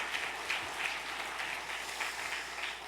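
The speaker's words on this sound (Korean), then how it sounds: "우리 힘찬 격려의 박수 보내시겠습니다" Faint applause from a church congregation, heard from a distance as a soft, steady patter of clapping with small rhythmic surges and no talking.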